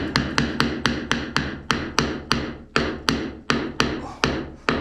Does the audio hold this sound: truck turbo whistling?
no